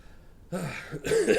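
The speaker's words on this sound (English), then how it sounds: "Trying to cough" A couple of short, rough coughs or throat-clearing bursts, close and fairly loud, with a brief pause between them.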